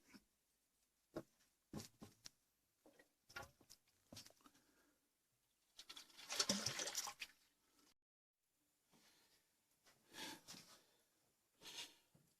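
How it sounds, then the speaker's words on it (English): Hot water sputtering from a newly rebuilt kitchen tap as air is pushed through the system, heard as irregular spurts and gushes that grow louder for a moment midway, then short bursts, quiet and close. "So let's turn the hot water back on."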